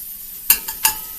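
A mushroom sautéing in butter in a cooling pan makes a faint background, broken by three quick stirring scrapes in close succession.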